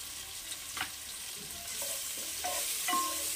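Chopped tomato and green chilli frying in hot oil in a pan, a steady sizzle with occasional spoon scrapes and stirring clinks, close and alone.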